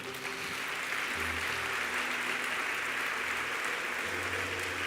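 Sustained applause from a church congregation fills the space, even and continuous, with faint low tones underneath.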